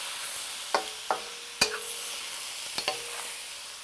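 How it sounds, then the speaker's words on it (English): Instant ramen noodles and eggs being stir-fried in a pan for a Thai pad mama: a soft sizzle punctuated by several sharp scraping and tossing clanks of a utensil, close, no speech. "I'm gonna add the noodles right on top of the eggs. I want the eggs to sort of hold on to some of the noodles, mix and mingle, and then toss everything together."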